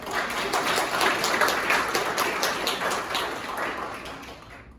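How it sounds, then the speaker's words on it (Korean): An audience applauds steadily at a Korean landscape architecture day award ceremony, a dense, even patter of many hands that holds for several seconds and slowly fades. "박수 부탁드리겠습니다"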